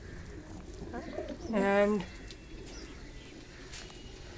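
A fantail pigeon gives a short, throaty coo lasting about half a second. Soft background noise runs through the clip, and a voice is briefly heard.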